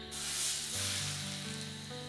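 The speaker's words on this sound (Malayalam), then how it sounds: "ഒരു പാൻ ചൂടായതിൻ്റെ ശേഷം നമുക്ക് ഇലയപ്പം ഇട്ട് കൊടുക്കാം." Ilayappam, a leaf-wrapped rice cake, sizzles steadily in a hot pan, a continuous broadband hiss that holds at a moderate level throughout without any voices.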